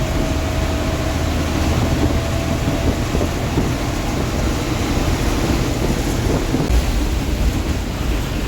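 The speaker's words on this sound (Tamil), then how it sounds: "அடுத்த மழை வர ரெடி ஆயிடுச்சு. செம்ம இறங்குது பாருங்க." Heavy rain pours steadily around a KSRTC bus on a daytime hill-road journey from Kannur to Kasaragod in Kerala, a dense, loud continuous roar with wind-like rushing and no voices.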